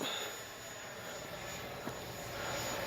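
A Freewing 90mm Zeus RC jet climbing straight up after takeoff, its ducted-fan engine a steady, loud, broadband roar that holds evenly throughout with no voices.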